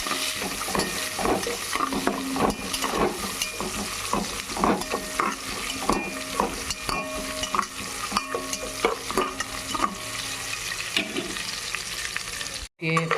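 Ingredients for Andhra-style gongura pulao fry loudly in a pan under a dense, continuous crackle. Frequent stirring strokes and scrapes run throughout, close and prominent, with a brief dropout near the end.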